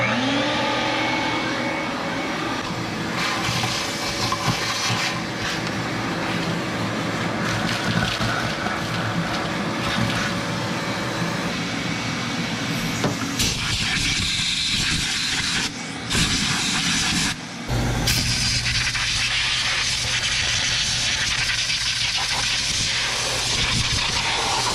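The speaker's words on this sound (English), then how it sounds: "I'd like to take a vacuum cleaner and go over all of this" A loud, steady vacuum cleaner roars inside a truck cab, sucking leaves out of the interior, with its pitch shifting and briefly dropping as the nozzle moves around; no talking.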